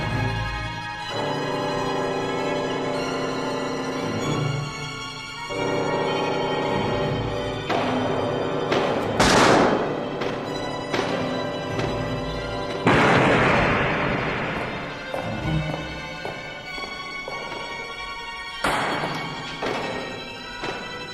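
Gunfire and crashing impacts from the shootout in The Untouchables (1987) break out in sharp bursts and booms, mixed with a sustained musical score.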